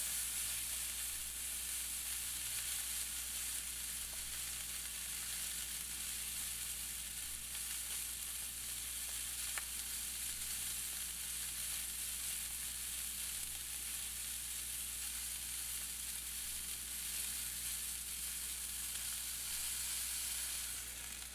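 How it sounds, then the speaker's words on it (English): A steak sears in a hot pan with a steady, even sizzle that holds at constant loudness for the whole stretch, with no voices. "So I'll cook it for about 1 minute on each side. Okay, now on the other side."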